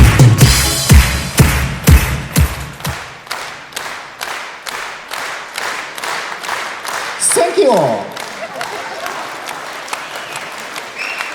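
An audience at a Kyrgyz comedy concert gives rhythmic, loud applause, unison claps at first that settle into a steady clapping beat, with a brief spoken thanks and crowd noise partway through.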